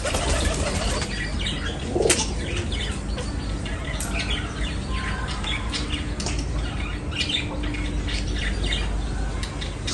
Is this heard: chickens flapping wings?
yes